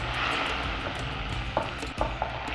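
Butter hits melted sugar browning in a pan and sizzles steadily, with a few light scraping or stirring clicks and no talking.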